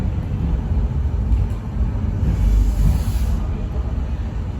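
An older Sydney suburban train without air conditioning runs through Wynyard Station toward the Harbour Bridge, heard from inside the carriage as a loud, steady low rumble with rattling and wind noise from open windows.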